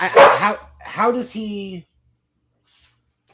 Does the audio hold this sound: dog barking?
yes